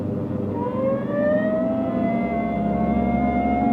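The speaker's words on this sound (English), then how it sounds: "Hit the siren." A police car siren wails, rising and falling steadily, loud and close, over the low rumble of a moving vehicle engine.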